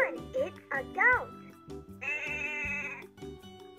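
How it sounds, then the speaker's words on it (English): Electronic goat bleat from a LeapFrog toy laptop, a quavering synthesized cry sounding once after a short chirpy toy voice and jingle, clear and close with sustained tones underneath. "Well done! It's a goat."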